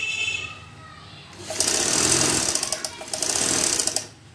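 A sewing machine stitches a sleeve seam in two sustained runs of fast, steady needle clatter separated by a brief dip, close and loud after a quieter opening.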